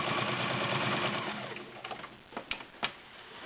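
Near-mint Kenmore Model 1755 sewing machine stitching through five layers of fabric, a close, rapid mechanical whir that slows into a few distinct clunks and taps toward the end.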